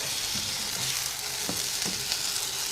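Rice tipped onto cooked chicken sizzles and fries steadily in a pot while being stirred, with scraping strokes of a spoon cutting through the constant close hiss.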